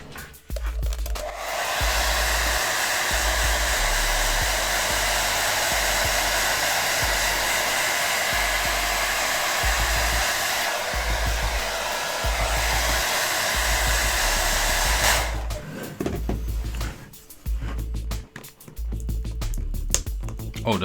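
A heat blower runs steadily at close range for about fifteen seconds, a loud continuous rushing roar, heating a part on a Logitech Z-10 speaker to loosen it, then cuts off, leaving scattered handling clatter.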